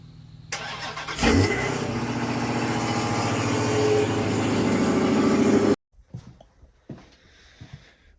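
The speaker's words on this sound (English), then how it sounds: "I'm gonna just roll a clip of the car starting right here" A car engine cranks briefly, catches with a loud burst and settles into a steady idle for several seconds before cutting off abruptly, leaving faint background noise.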